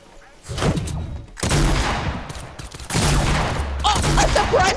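Fortnite gunfire: heavy, rapid bursts of loud shots with thudding impacts, close and intense, coming in three or four clusters over a few seconds.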